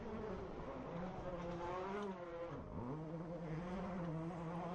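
A rally race car engine in the Córdoba hills, a continuous high buzzing drone that dips sharply in pitch midway as it shifts or passes, then climbs again, heard at a moderate distance with no talk.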